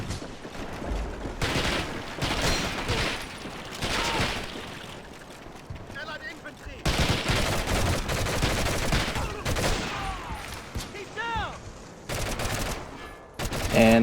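Rifle gunfire in the video game Medal of Honor: Heroes, set during Operation Market Garden, with bursts of shots and battle noise over a busy mix of effects and someone talking throughout.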